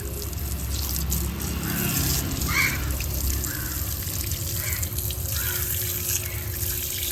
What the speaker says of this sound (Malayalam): ചളി ഒഴുകി പോകുന്നുണ്ട.